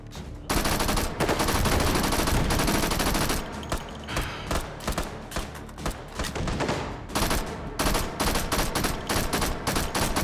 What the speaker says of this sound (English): Thompson submachine gun is like a really good purchase